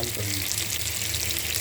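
Chopped onions fry in butter inside a pressure cooker pot, giving off a steady, close crackling sizzle with no voices over it.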